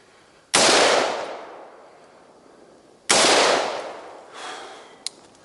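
Two sharp, loud gunshots crack about two and a half seconds apart on an overland shooting course, each trailing off in a long echo through the outdoors, followed by a small faint click near the end.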